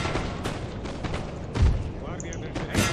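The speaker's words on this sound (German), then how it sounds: "Kanonenkugeln." Cannon artillery fires in a Napoleon: Total War battle. Dense battle noise carries a couple of heavier booms, and someone talks over the fighting.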